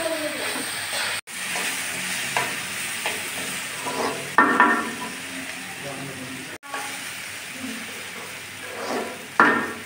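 Bitter gourd and potato with onion and chilli pieces stir-frying in a pan, a steady sizzle and hiss broken by occasional scrapes of a spatula against the pan, with some brief talk.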